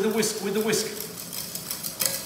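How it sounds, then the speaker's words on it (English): A whisk gently stirs a flour and milk roux in a pan, making a soft continuous scraping and clinking texture with light metallic taps, close by. A faint voice is partly audible underneath. "Stir gently with a whisk"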